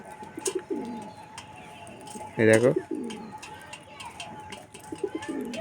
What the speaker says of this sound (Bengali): এই কালো পায়রাটা যেটা ডাকছে